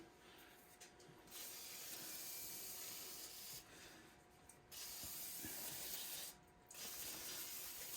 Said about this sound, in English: as with any new rotor, you want to rinse it off with some brake cleaner.